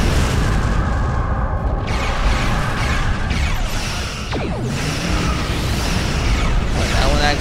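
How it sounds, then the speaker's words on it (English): Torpedo explosions in the space combat game Star Trek Online make a loud, continuous barrage of booming blasts and crackling rumble that fills the whole stretch without a break. "it was an emission-seeking torpedo, which tracks towards vessels, and it does a little extra damage as if it was a high-yield torpedo"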